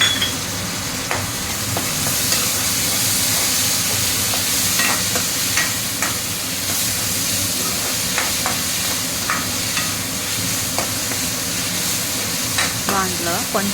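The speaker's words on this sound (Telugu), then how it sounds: "టమోటాలు 1 కప్పు వేసుకొని బాగా కలుపుకోవాలి." Tomatoes frying and being stirred in a pan for a curry (mosram curry), giving a steady sizzle with repeated scraping stirs throughout and no talking.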